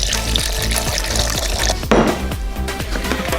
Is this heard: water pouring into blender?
yes